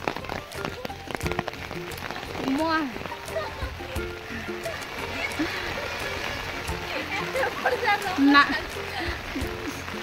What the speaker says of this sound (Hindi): देखिए पारे केते वर्षा होती